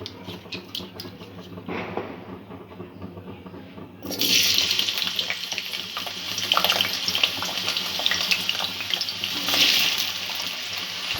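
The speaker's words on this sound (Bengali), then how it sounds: "আলুটা আমি ভেজে নেব।" Potatoes go into hot oil in a wok. After a quiet start, a loud, continuous sizzle and crackle builds and holds steady.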